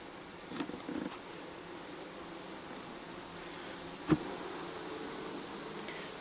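Honey bees buzz at an open hive during an inspection, a faint, steady hum that carries throughout, broken by a few soft clicks and bumps.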